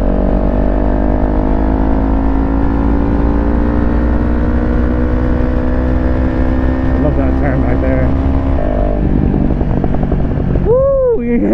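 A Kawasaki Ninja 400 with a Bauce Racing ECU tune drones loudly and close through its exhaust as it rides through a turn, holding a strong steady tone before the pitch shifts near the end.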